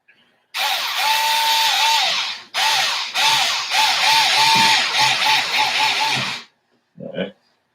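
A cordless power drill drives screws into the steering knuckles of a toy vehicle's front axle, giving close, loud whirring bursts with rising and falling pitch. The bursts are separated by brief pauses, and a short final burst follows.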